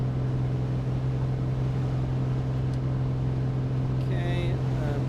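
A Piper Comanche piston aircraft engine in Microsoft Flight Simulator 2020 drones steadily and loudly throughout, holding a low, even hum while a brief higher tone appears near the end.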